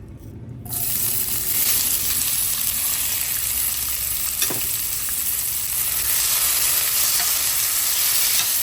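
Red onions, tomatoes and garlic sizzle in a hot pan for chicken enchiladas, a dense, steady frying hiss up close that starts abruptly and keeps going, with a faint clink partway through.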